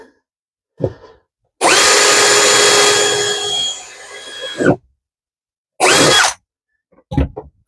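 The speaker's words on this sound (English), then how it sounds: "I'm going to start a little starter hole." A power drill bores a starter hole into a caravan wall in several bursts: a sustained whine of about three seconds, then shorter spurts, loud and close with no talk.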